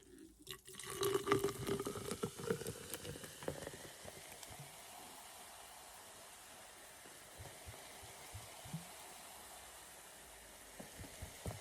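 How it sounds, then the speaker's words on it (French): A fizzy homemade lemon and mint drink is poured into a jar, with a soft splashing pour at first that fades into a faint, steady fizz and quiet crackle of bubbles. "je viens y rajouter ma boisson au citron. Donc, c'est gazeux."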